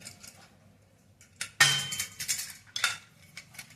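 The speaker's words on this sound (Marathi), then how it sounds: "आणि झाकण लावून घ्यायचं" A pressure cooker lid is fitted and closed, producing a series of close metallic clanks and scrapes, a loud clunk followed by several lighter clinks and rattles, with no talk.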